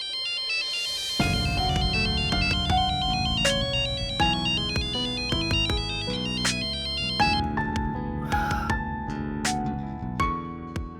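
A phone ringtone plays a loud, bright repeating electronic melody for about ten seconds and goes unanswered, with no voices over it.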